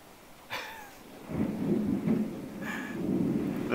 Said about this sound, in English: This may be our best storm so far this summer.